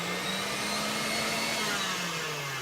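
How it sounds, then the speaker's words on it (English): A KitchenAid stand mixer creams a mixture, giving a steady, loud motor whine with a constant hum that dips slightly in pitch, close and continuous with no talk. "I love my KitchenAid."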